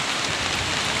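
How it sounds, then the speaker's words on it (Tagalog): Heavy rain at sea, on a fishing trip, pours steadily in a continuous, close hiss for a brief moment. "Hanggang ngayon ulan pa rin."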